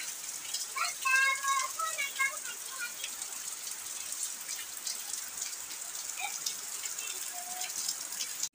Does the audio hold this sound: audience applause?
no